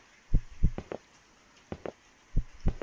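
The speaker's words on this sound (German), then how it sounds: "Oh, mein Herzschlag. Schon wieder da." A heartbeat in the horror video game One Late Night thumps in deep paired beats, three lub-dub pulses evenly spaced and close.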